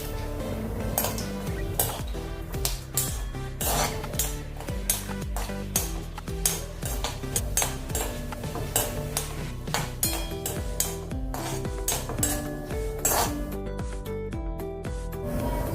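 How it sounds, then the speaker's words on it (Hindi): Coconut roasting in a spoonful of oil in a pan, with steady scraping and clinking of a spoon against the metal pan over a faint sizzle, close and continuous with no talking. "पहले हम नारियल डाल देंगे, इसको भूनेंगे"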